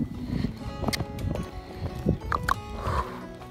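A pony being ridden outdoors, its hooves clip-clopping in an irregular rhythm at close range, with some faint snorting and rustle mixed in.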